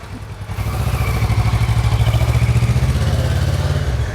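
A superbike's engine runs steadily at a low, throbbing idle with a rhythmic pulsing beat, close and loud, as it is moved into a service garage in Bangalore; no talking.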